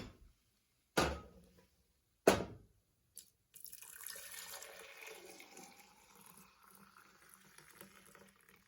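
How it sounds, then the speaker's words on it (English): Homemade L. reuteri yogurt poured from one jar back into another, a couple of sharp clinks of glass, then a soft, steady liquid pour and gurgle running for several seconds, quiet and close. "the amount of pouring I did back and forth"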